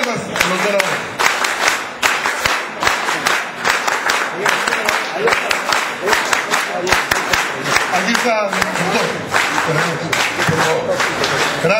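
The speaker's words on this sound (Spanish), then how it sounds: "Quiero que recibamos democráticamente con palmas al doctor Agüero" Crowd applauding a guest, the doctor, at a political gathering in a party hall, sustained rhythmic clapping with voices mixed in over the whole stretch.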